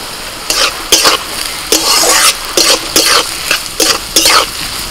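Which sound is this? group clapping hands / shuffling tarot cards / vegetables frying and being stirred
vegetables frying and being stirred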